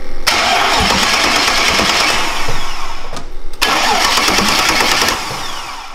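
An old Mercedes-Benz V8 car engine cranks and catches, roaring loudly, cuts out briefly, then starts again and settles into a steady rumbling idle.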